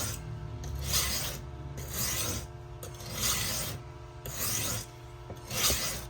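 A knife is ground on a sharpening stone in rhythmic rasping strokes, about six back-and-forth passes, close and moderately quiet, with no speech.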